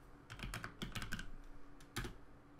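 A folder name is typed on a computer keyboard in short, quick bursts of close, crisp key clicks with small pauses between.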